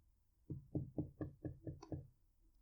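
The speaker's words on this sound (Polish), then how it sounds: "zaczęło pukać w sufit pod spodka" Seven knocks on a ceiling from the floor above, a steady, evenly spaced series of dull thuds, fairly close and clear against a quiet background, with no voices.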